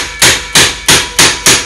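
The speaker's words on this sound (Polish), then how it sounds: "natomiast to, że właśnie uderza się młotkiem" A hammer strikes an impact screwdriver to loosen a screw during a Mercedes alternator repair, landing five sharp, loud metallic blows at a steady rhythm, each with a brief ringing decay.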